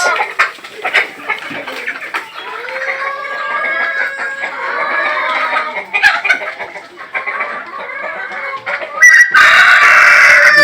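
Chickens at a poultry farm cluck and squawk close by in a busy, overlapping chorus, with rising calls and a louder, noisier burst of flock activity near the end.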